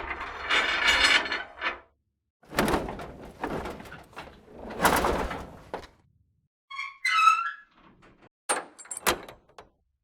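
A heavy historical jail door from the Strata Collection sound library grinds and rattles open in several loud mechanical bursts of scraping metal and clanking latches, ending in scattered ratchet-like clicks and a final clunk.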